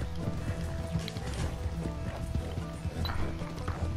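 Horse hooves pounding in Red Dead Redemption 2, a steady galloping clip-clop over dense game ambience and music, continuous and fairly close throughout.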